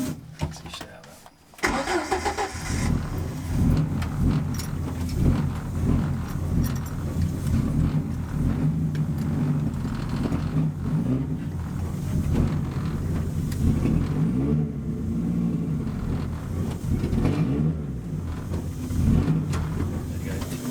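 A twin-turbo Ford Fiesta with a failing wastegate starts and runs, its engine droning steadily and loud close up with uneven revving swells throughout, while people speak over it.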